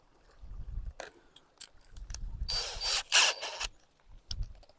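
A power drill drives a drill-tap bit from Aliexpress, with low motor rumble and bursts of grinding bit noise in short uneven runs, close and moderately loud.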